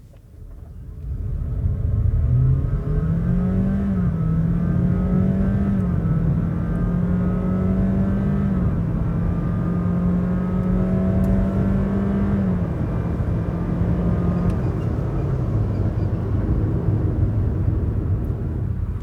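Honda City 1.5L RS e:HEV hybrid sedan accelerating hard from a standstill to 100 km/h, a steady loud engine drone rising in pitch over about nineteen seconds with no talking.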